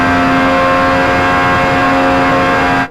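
Racing car accelerating hard at high speed in Project Gotham Racing 4, a loud steady engine drone with a strong sustained tone that holds throughout, then cuts off abruptly at the end.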